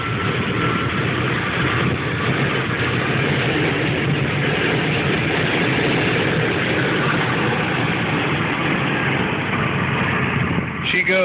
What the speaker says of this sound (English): as you can see, she idles pretty damn well